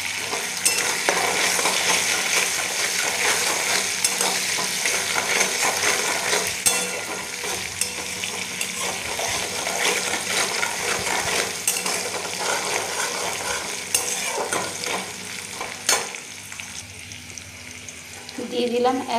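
Cashews, peanuts and raisins frying in hot oil in a pan while a spoon stirs them, a steady sizzle with scraping and clinks of utensil against metal, close and continuous.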